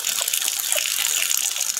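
Water pours steadily into a small turtle's tank with a continuous close gushing splash.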